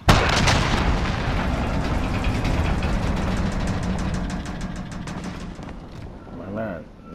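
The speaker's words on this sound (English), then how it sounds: "Enemy cruise missile incoming!" A cruise missile strike in a Call of Duty game, a loud sustained rumbling blast with layered booming and crackling debris that fades toward the end, with speech-like game chatter mixed in.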